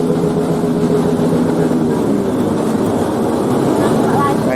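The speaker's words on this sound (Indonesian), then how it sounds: "Ini tadi sudah kedengaran knalpot motornya sudah digeber-geber" Motorcycle exhausts are revved on a street near midnight on New Year's Eve in Surabaya, heard as a dense, continuous low engine roar and rumble that stays loud the whole time, with no break in the noise.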